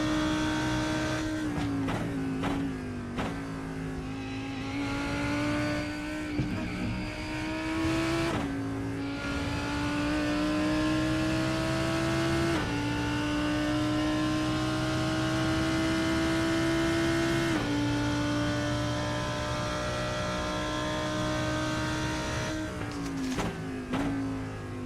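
Lamborghini Huracan GT3 race car engine at Monza in a racing video game, a loud steady high-pitched howl with gear-change dips and re-climbs through the lap, alone without talk.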